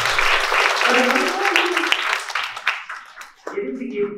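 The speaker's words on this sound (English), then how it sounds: "Big clap to you." Students and guests at an Earth Overshoot Day school event clap for a presenter, a dense round that thins out toward the end while a voice speaks over it.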